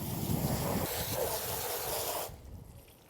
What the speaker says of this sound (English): So we're just gonna rinse it off a little bit first.